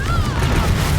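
Confringo fire blast spell in Hogwarts Legacy: a short, loud whooshing burst with a crackling, fiery roar and a rising tonal sweep, lasting about a second.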